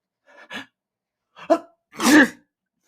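A voice imitates a sneeze: two short breathy build-ups followed by one loud, exaggerated sneeze, close and alone.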